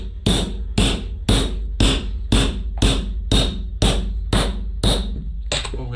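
Repeated hammer blows on a carpet tool fastening a tartan stair runner onto wooden stairs, about ten sharp, evenly spaced strikes roughly every half second, loud and close with no talking.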